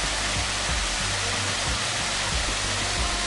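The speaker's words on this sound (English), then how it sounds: "There's a few of these nice little cascades along this creek." Small cascades of water splash and rush steadily along a creek, a continuous close burbling with no voices.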